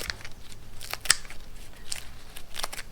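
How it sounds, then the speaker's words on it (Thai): Scissors snipping Chaiya kale leaves into small pieces, a series of crisp, close snips at an irregular pace with one especially sharp cut. "หรือว่าจะใช้กรรไกรตัดก็ได้ค่ะ"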